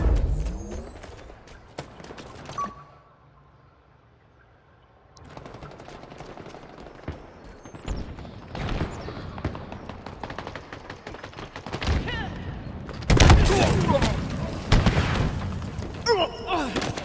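Gunfire in a live fire exercise in Halo Infinite: loud bursts of automatic fire and single shots, then a quiet lull, then dense, heavy volleys with thuds, with occasional voice-like sounds among them.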